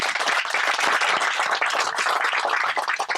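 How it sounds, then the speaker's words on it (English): Audience applause at a groundbreaking ceremony for a welcome center, a dense, steady wash of many hands clapping throughout, fairly close and loud with no talk over it. "give us a round of applause"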